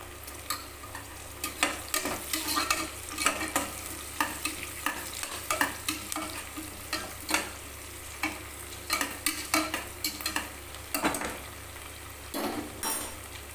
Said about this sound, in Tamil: இப்போது வெங்காயம் வந்து ஓரளவுக்கு நல்லா வதங்கியிருக்கு இப்போ வந்து பச்சை மிளகாய் போட்டுக்கலாம்